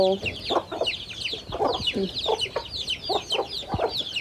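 Several chickens cluck in repeated short bursts, fairly close, with a busy bird chatter layered behind them throughout.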